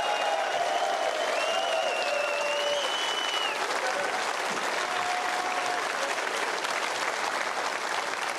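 Sustained applause from a snooker audience at the 2024 Tour Championship final, a steady dense wash of clapping filling the whole stretch with a few faint whistles over it.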